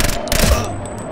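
A single sharp, loud sniper rifle shot in the shooter game Ghost Recon: Future Soldier, a quick burst that decays into a short ringing tail.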